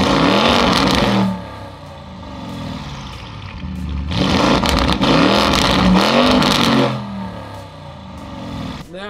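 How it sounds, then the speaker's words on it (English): Porsche Cayenne Turbo fitted with a Supersprint downpipe, revved hard in loud close bursts: a roaring surge, a drop to a rumbling idle, a second long rev, then settling again, with no talking. "Let me show you what's under the hood and we'll start the car up."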